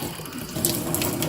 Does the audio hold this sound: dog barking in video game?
no